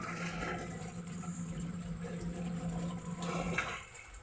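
Vinegar poured over chili-laden tuna kilawin, a steady liquid splash close by lasting about four seconds, with a faint low hum beneath and no speech.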